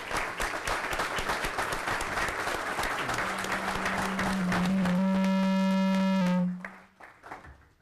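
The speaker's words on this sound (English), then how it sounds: "Okay, that's how strongly we all applauded." A crowd applauds loudly for several seconds while a steady electronic tone rises in, then both cut off abruptly, leaving faint room noise.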